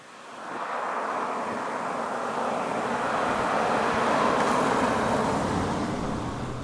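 A Bentley Arnage R engine roars steadily and builds in intensity as it kicks down and accelerates, a broad continuous rumble that swells toward the middle and stays loud throughout.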